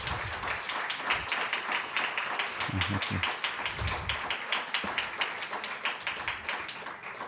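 Audience applause fills the room, steady clapping from many hands throughout, with a brief spoken thanks partway through.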